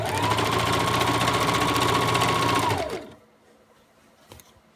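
A sewing machine stitches rapidly around a dress collar in one steady, loud whirring run, then stops abruptly, leaving faint handling noises.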